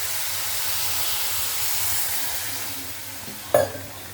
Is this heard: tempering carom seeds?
yes